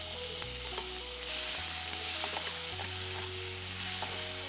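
Ingredients sauté in a pan with a steady bright sizzle and light stirring scrapes throughout, close and even in level, with no voices.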